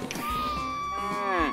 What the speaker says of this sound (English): Wonderful cow.